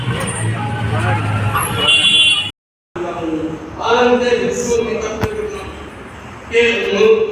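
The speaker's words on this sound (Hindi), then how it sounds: "तो गाइस गाड़ियों की आवाज़ आ रही है।" Road traffic on a busy Indian street, a continuous rumble of passing cars and buses with engine swells and a brief horn toot, loud and close, while people talk over it.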